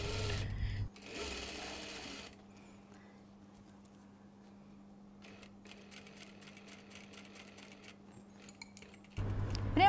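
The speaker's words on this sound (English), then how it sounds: "You can see that it doesn't take long to stitch the lining." A sewing machine stitches the lining of a cashmere jacket in a steady, close hum, bracketed by bursts of handling noise and rustling at the start and end, with no talking over it.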